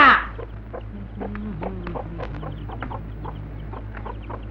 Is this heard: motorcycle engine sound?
no